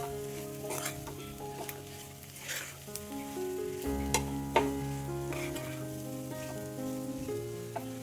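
Zunka of besan cooked with salt being stirred in a pan, a soft steady sizzle with scraping strokes of the spoon and light clinks, quiet and close, no talking.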